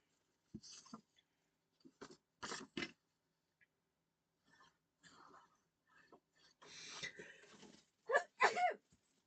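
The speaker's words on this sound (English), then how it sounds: "Oh, and then I have to sneeze." A few breathy, throaty bursts, ending in a sharp, loud sneeze close to the microphone.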